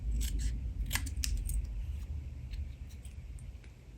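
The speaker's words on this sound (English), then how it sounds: "So I'll trim the sides. And then I'll trim the bottom." Scissors snip the sides of card stock for a half-fold greeting card, a few quick crisp cuts close by over a low background rumble, fading toward the end.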